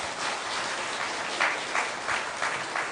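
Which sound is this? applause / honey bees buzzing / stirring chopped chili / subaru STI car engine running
applause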